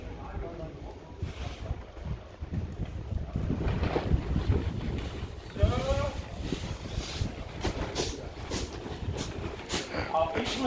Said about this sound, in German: Wir haben hier einen ganz blöden, schrägen Wind